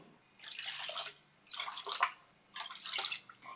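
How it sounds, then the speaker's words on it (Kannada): Water is poured into a pot of semolina in three separate bursts, each a steady gushing splash lasting under a second, with short pauses between. "ಅದೇ ಕಪ್ಪಲ್ಲಿ 4 ಕಪ್ಪಷ್ಟು ನೀರು ತಗೊಳ್ತಾ ಇದ್ದೀನಿ"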